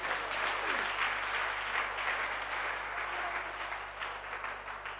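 A church congregation claps together during a Sunday service, a steady dense patter of many hands that carries on for several seconds before gradually thinning, with no talk over it.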